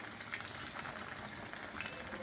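Sabudana snacks frying lightly in hot oil, giving a steady, close sizzling hiss that continues evenly without pause.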